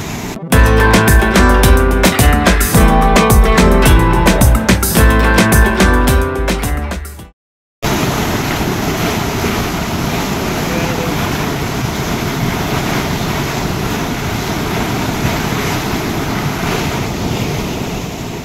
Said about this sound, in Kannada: ಇಲ್ಲಿ ಬಿದ್ದಂತ ನೀರು ಕಾಲುವೆಯ ಮುಖಾಂತರ ಮುಂದೆ ಹರಿದು ಹೋಗುತ್ತದೆ.